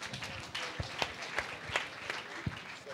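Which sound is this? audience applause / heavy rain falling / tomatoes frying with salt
audience applause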